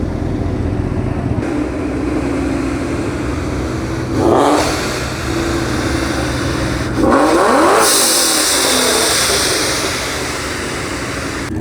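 A car engine revs hard twice at a night car meet, each loud surge rising and falling against a steady background of idling engines and crowd noise.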